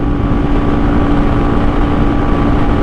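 A Forte 250 motorcycle engine held at around 7000 rpm, a loud, steady, unbroken drone with a constant tone and no speech over it.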